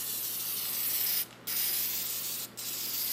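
Spray paint hisses steadily onto a Chevelle SS wheel in long continuous passes, close up, with two brief pauses between strokes.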